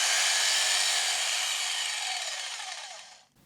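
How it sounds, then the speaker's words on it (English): A jigsaw cuts through a pine board, a loud, close, continuous buzzing rasp that holds steady for about three seconds and then abruptly stops as the cut finishes. "It's going to do a quick cut through that pine."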